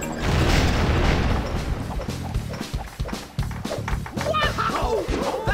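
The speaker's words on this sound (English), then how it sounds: "That explosion was awesome. It was like, kaboom!" A loud explosion in the LEGO City Undercover video game booms at the start, followed by crashing debris and clattering game effects, with character voices talking over the noise.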